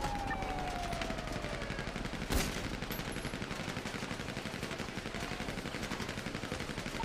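Video game gunfire, dense and continuous, with rapid shots rattling close and loud throughout and one sharper burst partway through, alongside a faint rising siren-like tone early on.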